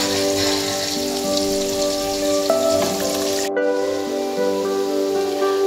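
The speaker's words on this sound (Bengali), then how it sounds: "এবার চালগুলো আমি এর মধ্যে দিয়ে দেব" Rice grains poured into a pot of boiling water spiced with biryani masala and ghee, giving a steady bubbling, rain-like patter with a sharp rush as the grains drop in, close and moderately loud.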